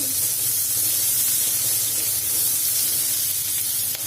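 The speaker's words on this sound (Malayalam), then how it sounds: "ഇനി നമുക്ക് അതിലേക്ക് വൃത്തിയാക്കി വെച്ചിരിക്കുന്ന 5-6 അല്ലി വെളുത്തുള്ളി ചേർത്തു" Five or six cleaned garlic cloves sizzle in hot oil over a medium flame, a steady loud hiss and spatter that holds throughout with no talk.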